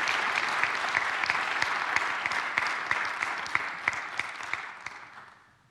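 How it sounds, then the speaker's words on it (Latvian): A lecture audience in a hall gives a round of applause, crisp many-handed clapping that holds steady and then tapers off toward silence, with no talk over it. "Vēlreiz aplausus, lūdzu."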